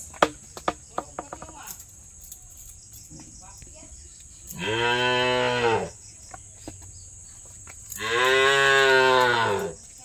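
Two long, loud moos from a village cow, one in the middle and one near the end, over steady cricket chirping, with sharp knocks and clatter at the start.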